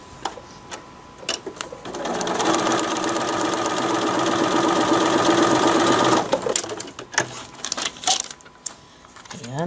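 Sewing machine stitching a paper-pieced quilt block seam, a steady close mechanical whir lasting about four seconds, framed by clicks and handling of fabric and paper.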